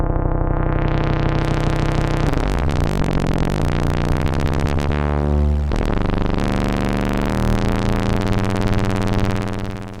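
A buzzing sawtooth drone on a Donner L1 synthesizer, its filter modulated at audio rate, producing harsh, metallic, shifting overtones that change character partway through.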